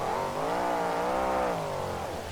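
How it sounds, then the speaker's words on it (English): A monster truck's engine revs hard at a monster truck show in Oakland, California, its pitch rising and bending in one loud continuous roar heard alone. "You can hear the RPM go all the way up in that engine."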